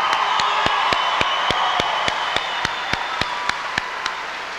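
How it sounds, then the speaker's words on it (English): High school graduation crowd applauds the seniors, a dense bed of clapping with a sharp, evenly spaced rhythmic clap cutting through, gradually softening. "Let's give these seniors another round of applause"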